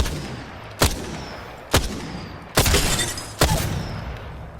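Four separate sniper-style gunshots in the video game Apex Legends, each a sharp loud crack with a short decaying tail, spaced roughly a second apart with no talking.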